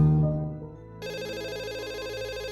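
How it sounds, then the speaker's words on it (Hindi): A low hum fades, then an electronic phone ringtone starts and warbles steadily, a repeating trilling tone that fills the rest of the moment. "देखो किसका फोन है, फोन उठाओ ना जल्दी।"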